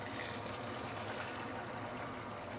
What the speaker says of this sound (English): I'm going to put in some water.